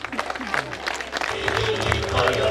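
A crowd of audience members claps in sustained, building applause at a celebratory event, with voices mixed into the noise.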